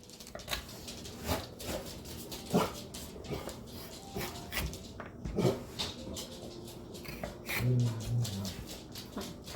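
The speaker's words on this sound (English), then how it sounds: "Somebody just walked by on the sidewalk, and they have to bark at everybody." Dogs bark and yip in scattered bursts at a passerby on the sidewalk, with a low whimpering moan later on, over a noisy indoor kitchen background.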